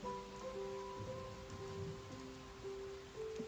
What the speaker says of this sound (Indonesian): yang aku tahu sekarang sudah mulai hujan